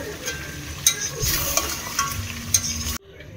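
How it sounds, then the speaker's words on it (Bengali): Boiled hot water poured into a pan of frying mutton kosha brings a steady close sizzle with stirring scrapes and a few sharp spits, cutting off abruptly near the end. "এই যে গরম জল ফুটিয়ে রেখেছি, এই জলটা দেব।"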